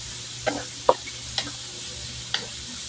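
Brown pork and beef for spaghetti sauce cooking in a pan, with a low steady sizzle and a few separate scraping stirs of a utensil, close by and with no talking.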